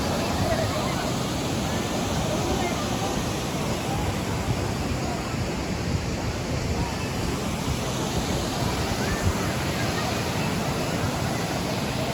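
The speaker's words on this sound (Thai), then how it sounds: "เป็นน้ำตกที่ใหญ่มากนะครับ ใหญ่แล้วก็กว้างนะครับ" Steady, broad rushing roar of a large, wide waterfall in Bueng Kan, Thailand, constant and enveloping throughout with no clear breaks.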